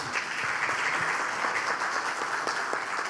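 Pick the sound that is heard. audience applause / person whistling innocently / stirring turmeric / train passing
audience applause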